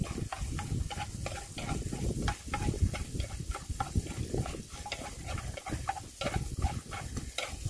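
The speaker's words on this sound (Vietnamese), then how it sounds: "Giờ phi xả ớt phải không? Phi xả ớt thơm lên nè." Crushed lemongrass and chili fry in hot oil in a pan outdoors by a ripe rice field, a dense, continuous sizzle and crackle with bursts of spattering, heard close with no talking.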